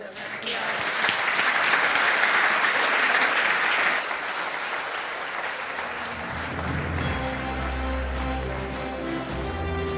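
Steady applause from an audience at a sports awards night, dense and sustained for several seconds before easing, then continuing more softly beneath music as the clapping fades.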